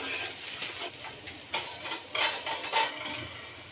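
Spiced masala for katachi amti sautéing in a pan, a soft sizzle broken by scraping stirs and a few clinks of a metal spoon against the pan.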